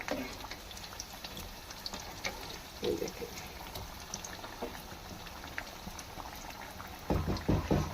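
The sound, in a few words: qeema kachori frying in pan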